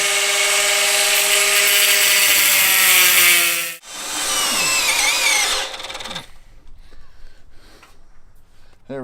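A high-pitched power tool cuts through a Jeep transmission cooler shield, screaming loudly and steadily near the mic, dropping out briefly, biting again with harsh grinding, then cutting off into quieter clatter.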